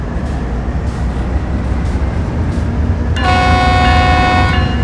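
A locomotive in Train Sim World gives a steady low diesel rumble that rises after the throttle is pulled, with a bright ringing tonal layer joining in partway through and holding to the end, with no voices.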